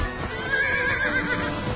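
A horse in a video game whinnies in a shrill, wavering neigh that rises and falls for about a second, with a low rumble underneath.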